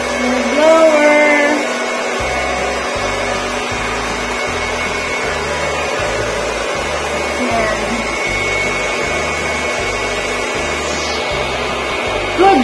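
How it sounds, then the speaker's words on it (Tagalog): A pet blower dries a bathed dog, a steady loud close-up whirring hum running almost the whole time with a faint pulsing flutter beneath, after a short start, with a brief voice at the opening. "Blower."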